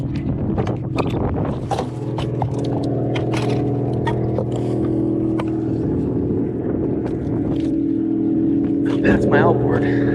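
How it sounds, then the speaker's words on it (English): A boat's outboard motor runs with a steady droning hum throughout, joined by wind buffeting the microphone and occasional knocks, while people talk casually over it. "That's my outboard."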